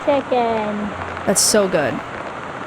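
Steady rain patters down outdoors in the aftermath of Texas floods, a constant wash of noise under a person talking and some harmonic animal-like calls.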